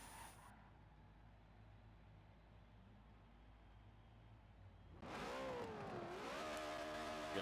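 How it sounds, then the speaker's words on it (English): Lamborghini-powered racing car heard at Sonoma, starting as a faint, distant hum over steady background noise, then revving up louder and nearer with a rising and falling engine whine in the last few seconds. "Fairly certain it is a Lamborghini engine"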